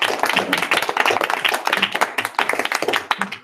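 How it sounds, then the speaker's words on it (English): A classroom or school audience gives a round of applause, dense overlapping hand claps at close range, steady for several seconds with a few scattered voices mixed in. "round of applause for Taha, guys."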